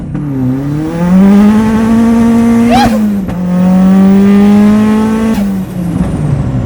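A turbocharged Mazda Miata with a Link ECU pulls hard through second gear, its engine note climbing loud and close to the rev limiter, a brief gear change with a short whine, then another sustained rising pull.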